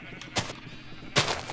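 Two short sheep bleats from a video game farm scene, spaced about a second apart, moderately loud against quiet background noise.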